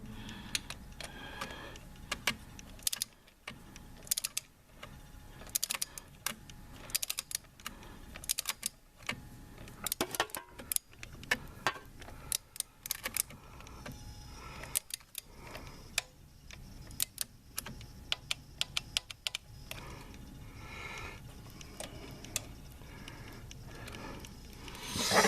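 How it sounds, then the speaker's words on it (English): A torque wrench works on a valve cover bolt of a 2013 Chevy Avalanche LTZ, giving sharp ratcheting clicks in irregular bursts, close and fairly loud over a low garage background. "I will torque that. I hear a little bit of a click."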